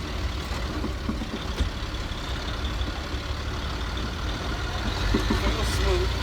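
A semi truck pulls away in first gear, its diesel engine rumbling low and steady from inside the cab, with someone talking over the drone.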